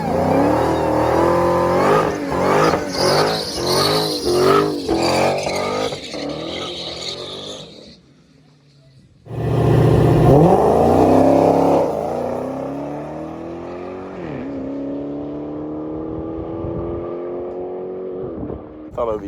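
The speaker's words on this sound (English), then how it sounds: "Steph's gonna take a test pass, and then we're gonna run the Redeye." A muscle car in a Shelby GT500 versus Dodge Challenger Hellcat Redeye drag race makes a test pass, its engine revving hard through rapid gear changes, dropping briefly, then roaring loudly again before fading as it pulls away, with no speech.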